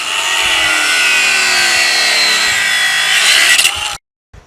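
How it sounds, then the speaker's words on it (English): An 18-volt grinder cuts through a steel T-post with a harsh, loud, continuous scream that climbs slightly in pitch before stopping abruptly, followed by silence. "we're going to use this grinder"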